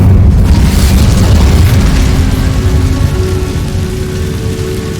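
In the Hogwarts Legacy video game, the Incendio fire spell goes off as a loud, deep whooshing boom that swells at once and then slowly fades into a rumbling roar, with no voices.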